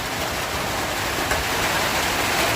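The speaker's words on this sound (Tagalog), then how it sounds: "Ulan na naman." Heavy monsoon rain pours steadily on a farm, a dense, loud, unbroken wash of noise with no pauses.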